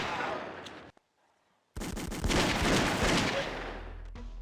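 Gunfire from a shooting segment in The X-Files Game on PS1, with a short crack, a near-silent gap, then sustained rapid dense shots and blasts that continue to the end.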